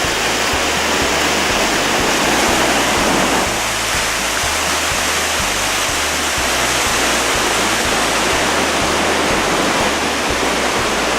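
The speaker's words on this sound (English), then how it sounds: "The Yellowstone River." The Yellowstone River rushes past a roadside pull-off, a loud, continuous wash of water with a low rhythmic engine-like thrum underneath throughout.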